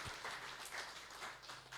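Audience applause after a talk on scholarships, a short spell of scattered clapping that sounds fairly distant and faint, with no talking.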